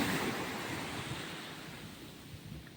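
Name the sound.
sea waves at Chandipur beach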